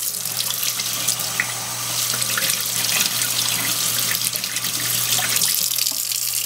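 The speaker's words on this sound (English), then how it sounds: "Then we'll get you some slow water rolling." Water running steadily from a tap into a sink, a constant close splashing rush with faint drips, no voices.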